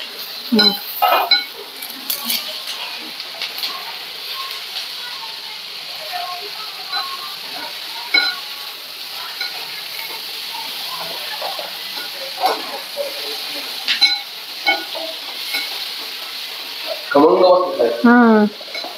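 Tomatoes sizzle in hot oil in a home kitchen pan, with a steady frying hiss under occasional clinks and scrapes of a spoon stirring, and a louder burst of clatter near the end.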